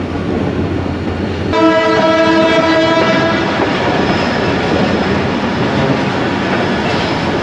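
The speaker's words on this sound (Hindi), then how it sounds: "इसलिए विसलिंग कंटिन्यूस करनी पड़ती है इधर।" A local KCR commuter train rolls past factories, its steady rumble and wheel clatter filling the air as the horn sounds one long, loud, sustained blast partway through, with the running noise carrying on after.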